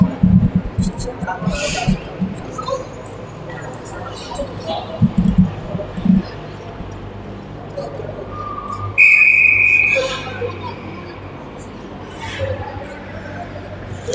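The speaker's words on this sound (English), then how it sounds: "Whistle." A referee's whistle sounds briefly and sharply during an ice hockey game, over arena crowd noise, with skates and stick sounds around it and a commentator talking through.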